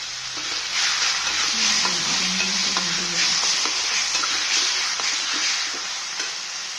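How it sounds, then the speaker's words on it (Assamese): Brinjal pieces fry with onions and spices in a pan, giving a loud, steady sizzling hiss close by, broken by soft scraping strokes as a spatula stirs them, with no talking. "বেঙেনাখিনি অকণমান ভাজি ল'ব লাগিব।"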